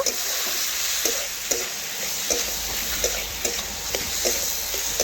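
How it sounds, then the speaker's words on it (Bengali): Boiled, drained papaya is stir-fried with masala in a pan for a Bengali dish: a steady sizzle runs throughout, broken by regular scraping strokes of the stirring spoon, close up and with no voices. "এখন পেঁপের সাথে মশলা আবারও ভালো করে কষে নেব"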